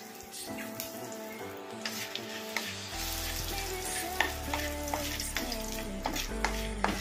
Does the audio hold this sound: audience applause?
no